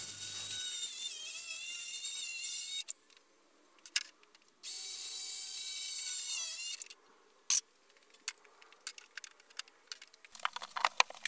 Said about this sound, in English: The fastest way to do this was to use a handheld circular saw.